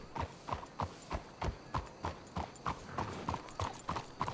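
Horse hooves clip-clopping at a steady walking pace in Red Dead Redemption 2, a regular run of distinct thuds about two per second, moderately close with faint background ambience and no talk.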